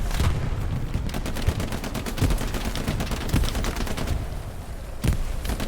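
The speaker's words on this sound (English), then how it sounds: "we see the tank is now getting shelled by the sides" Battle in the video game Hell Let Loose erupts with dense rapid gunfire and heavy shelling around a tank, a steady crackle of shots broken by louder booming impacts, no voices.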